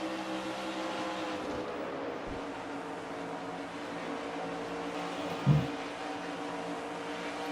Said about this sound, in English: And zipping past him is Phil Parker, number 29.